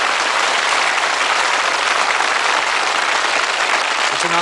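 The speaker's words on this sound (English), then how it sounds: "A round of applause because they're gambling a few prizes." A studio audience on the 1981 darts game show Bullseye gives loud, continuous applause, a thick wash of clapping that holds steady from start to finish.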